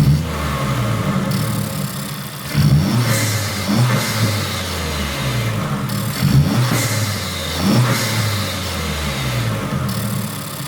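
An Acura Integra Type-S (DE5) engine fitted with an Eventuri carbon fiber cold air intake revs up repeatedly from idle, each loud throttle blip rising and falling back, heard close with no talking.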